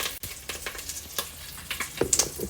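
Curry leaves sizzle and crackle in hot oil for a tempering, a close, busy hiss broken by quick spitting pops and stirring scrapes, with sharper bursts near the end.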